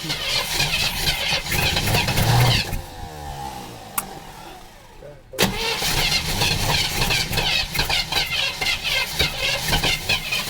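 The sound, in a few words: old car engine cranking and starting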